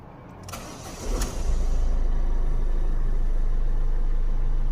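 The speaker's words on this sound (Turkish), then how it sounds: "Aracımızı bir çalıştıralım." A Ford Fiesta engine cranks briefly and catches, then settles into a steady low idle, heard close up with no talking.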